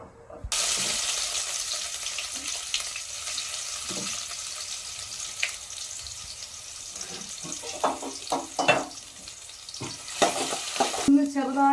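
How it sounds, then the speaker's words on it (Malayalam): Onions sautéing in hot oil for chicken curry, a steady close sizzle with a few scraping stirs of a spoon and some splashing, liquid-like sounds near the end. "ചിക്കൻ കറി നന്നായിട്ട് വഴണ്ട് വരണ്ടേ, ഈ ഉള്ളിയും ഇതെല്ലാം വഴണ്ട് വരണ്ടേ"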